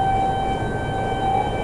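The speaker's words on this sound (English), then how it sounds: "Sirens blaring in the Kansas City area, warning residents of an incoming tornado." A tornado warning siren wails in the Kansas City area in a steady, sustained tone, loud and unbroken, over a rumbling background.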